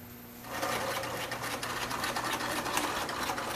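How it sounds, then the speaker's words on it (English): A sewing machine runs steadily, stitching new hovercraft skirt material with curved seams. It starts after a quiet half second, then keeps a dense, continuous whirring buzz at close range with no talk. "Have the entire skirt sewn together with our little curves."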